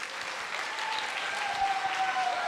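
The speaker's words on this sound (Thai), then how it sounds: "แล้วปรบมือพร้อมกันยาวๆต้อนรับอาจารย์ประทีปเรารัตนาอารีพิธีกรประจำค่ำคืนนี้ครับ" Sustained audience applause at an Asian traditional music forum concert welcoming the evening's master of ceremonies, an even, dense patter of many hands at moderate distance, with a faint held tone and a few murmuring voices underneath.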